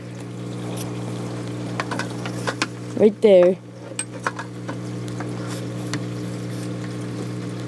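A return pump pushes water back through PVC pipe into a tank, giving a steady low hum with faint watery trickling, interrupted briefly by someone speaking and a few close handling knocks.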